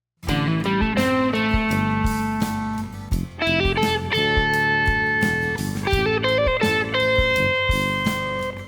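Electric guitar plays a flowing lead line of plain, steady notes with no pitch wobble, alone, with a mildly distorted tone.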